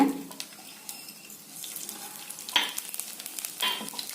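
Mustard seeds and urad dal sizzle and crackle in hot coconut oil for a jackfruit seed kootu, a soft steady frying hiss with faint pops and a few sharper stirring scrapes.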